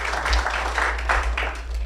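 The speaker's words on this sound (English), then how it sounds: "let's give them a big round of applause" Conference audience applause for a panel, a moderate burst of clapping over a steady low hum in the room.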